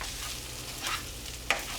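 Fried rice sizzles in a skillet and is tossed, a steady close hiss with a brief swell of movement and a sharp clack of the pan, with no voices.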